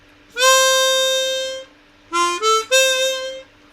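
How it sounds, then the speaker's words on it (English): A chromatic harmonica plays hole 4 on the draw with the slide pressed: a sustained reedy note held about a second and a half, then a short pause and a second phrase of three linked notes, solo and close. "and hole 4 drawing in with a slide"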